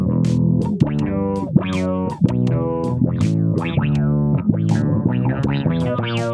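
A bass guitar runs through a compressor, an auto-funk envelope filter and other filter effects, playing a loud, plucked melodic line with sweeping, wah-like tone changes throughout.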